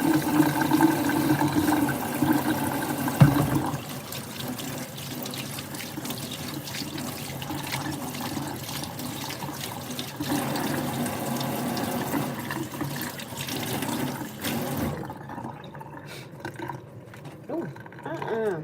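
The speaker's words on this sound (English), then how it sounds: "all this damn water just splashed up into my face" Water runs and splashes continuously around a sink or tub at moderate level, with a brief sharper splash early on, then trails off toward the end.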